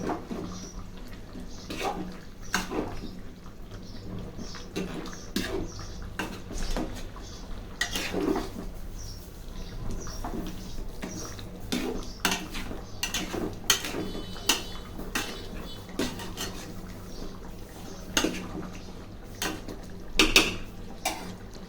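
Chicken for biryani is stirred in a pot, with repeated metallic scrapes and knocks of a utensil against the vessel at an irregular rhythm over a low background hum, close and moderately loud.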